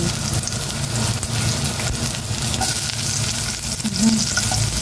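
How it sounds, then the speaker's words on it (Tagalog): Bitter gourd and garlic sautéing in a pan: a loud, continuous broadband sizzle with faint stirring underneath, steady throughout and with no speech. "ginigisa ko yung ampalaya na may bawang."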